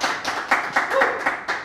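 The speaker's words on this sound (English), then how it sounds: "you hear probably a little more applause than you do in other shows" A small crew claps and applauds after a song, with brisk, uneven clapping and a few brief voices mixed in.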